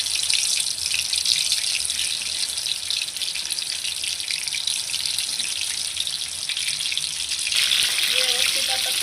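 Soybean pieces frying in hot oil on a low gas flame, a loud, steady bubbling sizzle that continues throughout with little change.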